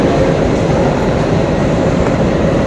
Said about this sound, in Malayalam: ഇവിടുത്തെ റെയിൽവേ സ്റ്റേഷന്, പിന്നെ ട്രെയിന്, പിന്നെ ബുള്ളറ്റ് ട്രെയിന്, ഇതൊക്കെ നമുക്ക് കാണാം.